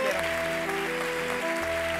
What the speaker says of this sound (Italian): Direi di fare il nostro grandissimo applauso a Telmo Pievani.